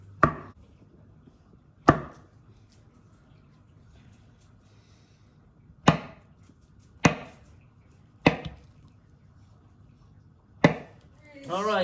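A big knife cuts a banana into chunky pieces on a board, giving six sharp, separate chops spaced unevenly with quiet gaps between them. No one talks.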